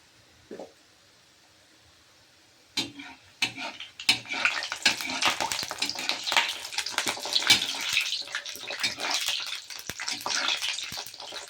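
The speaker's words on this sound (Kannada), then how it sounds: "ಒಂದೊಂದೇ ಜಾಮೂನನ್ನು ಕರಿತಾ ಇದ್ದೇನೆ." Gulab jamun dough balls fry in hot ghee with a dense, crackling sizzle that swells after a few sharp taps and clinks, continuing as a busy, close bubbling hiss.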